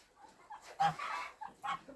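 Farmyard turkeys during mating give a few short gobbling and clucking calls, close but fairly faint, in brief bursts with quiet gaps.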